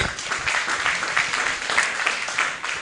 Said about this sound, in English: A hand clap for Dr. Kisache.